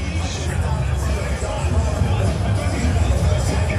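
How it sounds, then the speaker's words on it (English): Dense crowd chatter fills a sold-out esports arena at a Call of Duty League championship Sunday in New York, a steady, loud wash of many voices with no single speaker standing out. "It is a full crowd today, ladies and gentlemen. A full crowd. Sold out."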